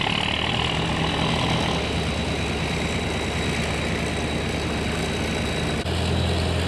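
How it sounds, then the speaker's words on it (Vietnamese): A heavy barge engine drones loudly and continuously on a river, a deep steady rumble with a faint high whine running over it. "Quá đã luôn tiếng động cơ"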